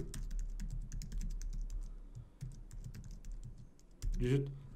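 Computer keyboard typing an email address at a desk: a steady run of quick, light key clicks throughout, close and fairly soft, with a brief louder thump near the end.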